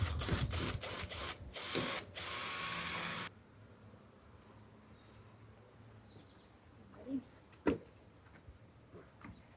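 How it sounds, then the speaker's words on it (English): Screws are driven into roof panels along a panel seam on a ruin being restored in Portugal, a loud, close whirring drill burst for about three seconds, then quiet outdoor ambience with a couple of sharp knocks. "he's just gonna work his way up along the seam of the panels and yeah, add more screws"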